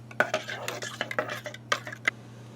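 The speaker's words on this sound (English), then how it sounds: "And we'll give this a stir." A German Einmannpackung Type II field ration drink made from an extract is stirred with metal cutlery, giving a quick run of close clinks and scrapes against the container over a steady low hum.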